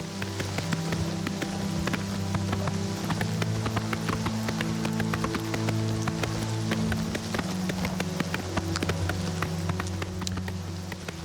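Horse hooves clip-clop at a steady trot while riding in Oblivion Remastered, a continuous rhythmic clatter over a low humming music bed, with occasional rain-like patter.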